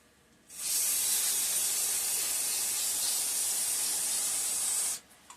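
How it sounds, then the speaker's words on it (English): A steady, loud hiss of aerosol cleaner sprayed onto the outside of a vintage Toro Proline Commercial Recycler lawn mower carburetor, one continuous burst of about four seconds, close and alone, stopping abruptly. "I'll give the outside one more spraying."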